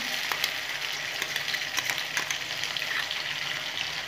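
A paste of ground cumin, coriander, ginger and chilli fries in a hot pan for a vegetarian eggplant dish, giving a steady, even sizzle with faint stirring clicks and no talk.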